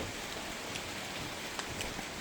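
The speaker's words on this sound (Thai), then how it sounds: "เรียบร้อยฝนตกนะครับ" Steady rain falls on a river during a fishing trip on the Lopburi River, a continuous soft hiss with scattered drop patter, no voices.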